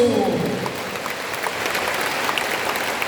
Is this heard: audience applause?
yes